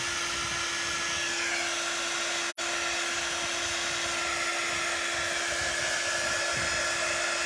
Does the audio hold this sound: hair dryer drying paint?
yes